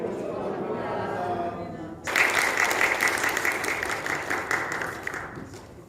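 A church congregation breaks into applause in welcome, with steady dense clapping from a large indoor crowd that starts abruptly after speech and continues loudly to the end.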